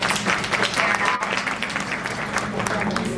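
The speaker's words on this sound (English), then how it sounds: "I want to give another round of applause for you guys." Audience applause for a group on stage, continuous dense clapping from a crowd throughout, fairly loud, with voices mixed in underneath.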